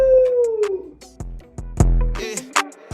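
A voice imitates a wolf howl, one smooth falling howl of under a second, followed by scattered clicks and thumping beats.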